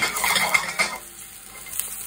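Snow peas stirred in hot oil in a wok, with a sizzle and a quick clatter of the utensil against the pan during the first second, then a softer frying hiss, near and without talk.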